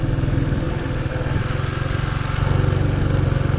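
A motorcycle engine runs at high revs with the clutch pulled in, a close, loud, steady buzzing drone with a fast even pulse that rises slightly toward the end.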